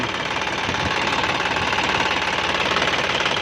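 A John Deere 5065E three-cylinder turbo tractor runs steadily close up, a dense, rapid knocking diesel clatter with a constant hum, no talk.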